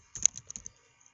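Several quick keystrokes on a computer keyboard while a package search is typed in a Unity3D project, a short cluster of light clicks close and quiet, then near silence.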